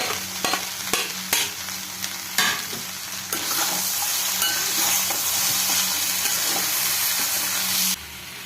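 Chopped onion sizzles and fries with raw banana thoran in a Kerala-style pan, heard close up. Early stirring clicks and scrapes give way to a steady loud hiss that cuts off near the end.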